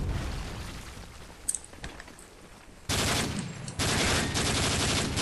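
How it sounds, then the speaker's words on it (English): Bursts of gunfire from players shooting in a capture-the-flag video game, a dense sustained volley that starts abruptly, pauses briefly and resumes loud and near, after a quieter stretch with a few scattered pops. "Watch the people shooting now."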